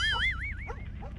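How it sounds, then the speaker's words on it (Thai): A dog in the game Fears to Fathom: Home Alone gives a short burst of yelping, whiny barks, high and wavering, over a low background hum. "หมามันเห่าอะไรนะ"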